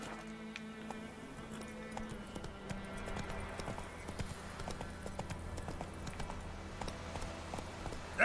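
Roach the horse gallops in The Witcher 3, a steady, rhythmic clip-clop of hooves running close and moderately loud over a low game backdrop, with faint tack jingling and no one talking.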